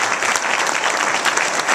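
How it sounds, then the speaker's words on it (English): At the Fine Arts Center of Mount Zion Church, the audience applauds the church pastor, a loud, dense and continuous burst of many hands clapping at once with no break. "Let's give the pastor of this church a round of applause."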